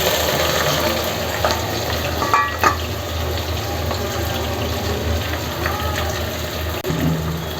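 Finely chopped onions for a desi chicken gravy fry in a pan with a loud, continuous sizzle and bubbling, marked by occasional clinks and scrapes from stirring.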